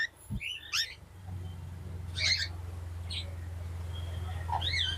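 A cockatiel at a bird market gives several short, rising chirps and whistled calls, bright and separate, over a steady low hum. A low grunting sound sits near the start.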